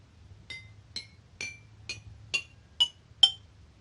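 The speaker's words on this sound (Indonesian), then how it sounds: "Masing-masing dari botol akan menghasilkan bunyi yang berbeda-beda ketika dipukul" Seven evenly spaced clinks of a spoon striking water-filled glass bottles, each a bright ringing tap with a short decay, growing louder toward the end against a faint low hum.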